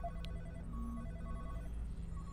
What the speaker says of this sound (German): Da klingelt ein Telefon, glaube ich.